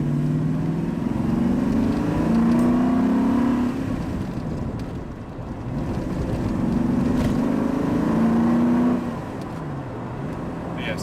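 A TVR Griffith engine drones from inside the car as it drives, pitch rising under acceleration, then dipping and climbing again through gear changes, with steady road noise and no talking.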